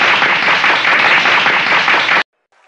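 An audience bursts into loud, dense applause and clapping that holds steady for about two seconds, then cuts off abruptly into near silence.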